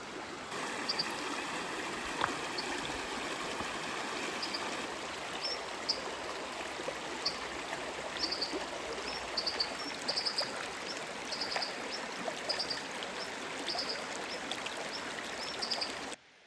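A river stream flows steadily at night beside a camper in the Pacific Northwest, a continuous close rushing and trickling of water with a few faint high chirps above it, no voices.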